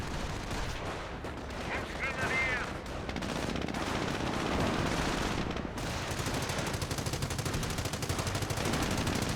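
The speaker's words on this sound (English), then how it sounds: "Sniper firing away from minimal health." Sustained battlefield gunfire in Company of Heroes 1, with sniper shots and machine-gun bursts layered into a dense, continuous din of distant and nearby firing and suppression across a front line, with a voice talking over it.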